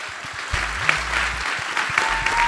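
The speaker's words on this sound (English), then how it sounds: "let's give them another round of applause" An audience at a political town hall applauds steadily, a dense wash of clapping that holds at a fairly loud level throughout.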